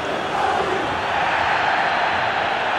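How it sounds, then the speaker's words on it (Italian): Stadium fans in the football game EA Sports FC 24 murmuring and jeering over a referee's decision not to give a penalty, a dense, loud, continuous roar with no talk. "I tifosi rumoreggiano per la decisione dell'arbitro di non assegnare il penalty"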